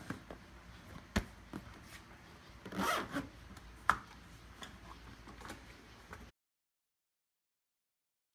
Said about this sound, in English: then you'll finish by re-zipping your windows closed